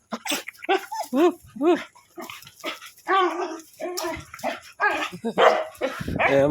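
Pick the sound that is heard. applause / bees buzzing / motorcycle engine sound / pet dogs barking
pet dogs barking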